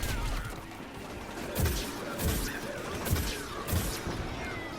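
Gunfire from a weapon in Plants vs. Zombies Garden Warfare 2, heard as a run of four or five punchy shots about half a second to a second apart. The shots sit in a busy, noisy battle mix.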